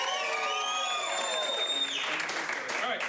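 An audience of adults and children applauds and cheers for Erica's Hill at a live showdown event, a sustained crowd roar with whoops and clapping that carries through the whole stretch.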